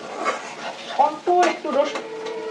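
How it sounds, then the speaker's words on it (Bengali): Onions fry in a pan with a little turmeric, their soft sizzle broken by several sharp metallic scrapes and clinks of a spatula stirring against the pan, close and fairly loud. "পেঁয়াজটা ভাজা ভাজা হয়ে গেছে"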